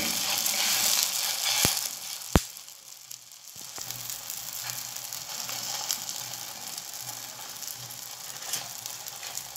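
Msemen flatbread fries in a lightly oiled hot pan, giving a steady, close hiss and sizzle with a couple of sharp clicks and light scraping, and no talking.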